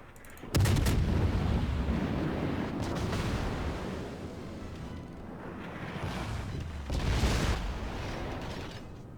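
Heavy naval gunfire in World of Warships, with deep booming cannon blasts and rumbling impacts around a ship, an abrupt loud onset followed by sustained rumble and another burst later, no talking.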